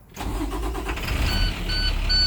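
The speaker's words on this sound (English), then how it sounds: "For that one, I'm going to turn on the engine," A truck engine cranks and catches before an air brake test, starting abruptly and settling into a loud, steady idle with faint beeping tones above the rumble.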